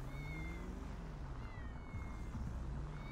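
Several cats meowing in GTA V with the LSPDFR police mod, overlapping drawn-out meows and wails at close range over a low ambient hum, with no one talking.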